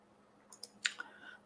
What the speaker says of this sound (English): What am I clicking on?